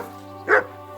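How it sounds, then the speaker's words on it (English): A single short dog bark in the medieval game Kingdom Come: Deliverance II, one brief burst over a steady low background hum with no talk. "Good dog, Mutts."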